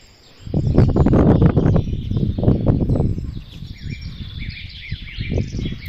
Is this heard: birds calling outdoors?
yes